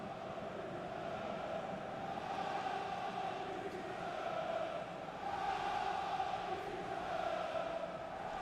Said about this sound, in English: Crowd's getting antsy. They want the game to resume.